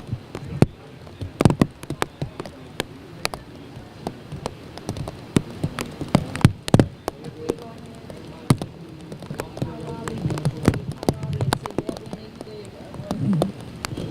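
Rain falling at an outdoor bass fishing tournament weigh-in at Pickwick, steady patter with many sharp drips and taps striking nearby surfaces, with faint voices in the background.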